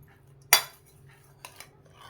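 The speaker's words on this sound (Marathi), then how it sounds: "हे बघा आपण एका प्लेटमध्ये काढून घेऊया" Brinjal rice (vangi bhaat) is scooped onto a plate: one sharp clink of a serving spoon against the dish, followed by a couple of softer taps, close and otherwise quiet.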